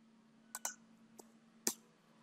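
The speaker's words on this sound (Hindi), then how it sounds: "तो मैं सब पे अल्ट एंटर प्रेस कर देता हूँ" A few light clicks from a computer keyboard as Alt+Enter is pressed: two quick taps, a faint one, then a sharper final keystroke, close but quiet over a low steady hum.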